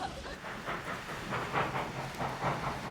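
A train in a film scene rolls along with a steady rumble and rhythmic, hissing pulses of wheels on track, at moderate distance and fairly even in loudness.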